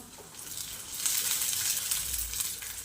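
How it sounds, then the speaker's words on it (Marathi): Onions fry in a pan until reddish, a continuous close hiss and sizzle that swells louder partway through, heard alone without speech. "आता कांदा छान असा लालसर होईपर्यंत आपण परतून घेणार आहोत"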